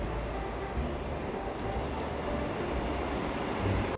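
A Seoul subway train rumbles along steadily with a dense low roar and faint metallic hiss, loud and continuous throughout.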